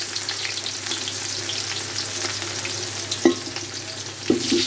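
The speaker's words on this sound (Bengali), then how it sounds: "পেঁয়াজটা একটু বেরেস্তা করে রাখবো, সেখানে পেঁয়াজ দিয়ে দিলাম।" Sliced onions fry for beresta, crisp fried onion for an Eid polao. A loud, continuous sizzle carries throughout, and two sharp stirring clatters land near the end.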